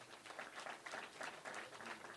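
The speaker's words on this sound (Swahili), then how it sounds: "wapigieni makofi" A crowd at a political party headquarters event claps in a faint, distant burst of scattered applause lasting a couple of seconds.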